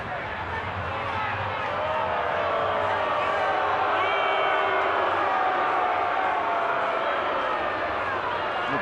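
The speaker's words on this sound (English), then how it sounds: "Booing because they're taking that away from the fan" A large crowd in a baseball stadium in Boston, Atlanta at Boston, roars in a sustained, broad wash of voices that swells slightly and holds, with a commentator speaking over it.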